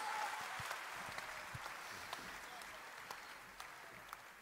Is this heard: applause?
yes